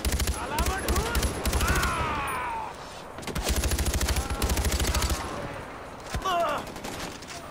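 Sustained machine-gun bursts rattle in fast volleys during a Far Cry 4 firefight, loud and close, with short pauses between bursts and shouted voices underneath.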